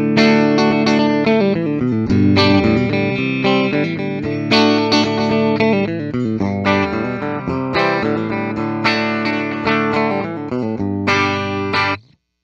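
A 1974 Gibson L6 Midnight Special electric guitar with a bolt-on neck, tone knob set at 7, plays sustained chords and ringing single notes in a steady, continuous passage, heard alone and close before cutting off abruptly.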